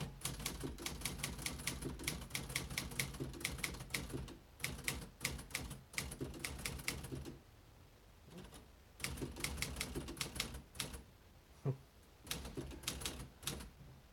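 A 1958 Remington Quiet-Riter typewriter typing in quick runs of crisp, close keystrokes, broken by short pauses and occasional heavier single strikes.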